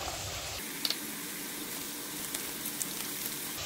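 Potato and carrot pieces sizzle in a pan for a dhaba-style mixed vegetable sabzi, a steady quiet crackle of frying with a couple of faint clinks and no voices.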